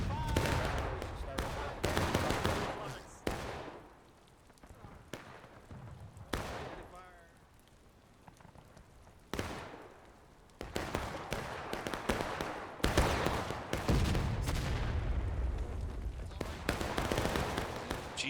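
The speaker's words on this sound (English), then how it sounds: "Now these guys are kind of doing long distance shooting here from 13th." Musket gunfire in the Civil War game War of Rights, repeated sharp loud shots and ragged volleys, some close and some distant, over a steady battle din with a voice talking throughout.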